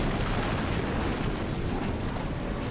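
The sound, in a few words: bomb explosions from a video game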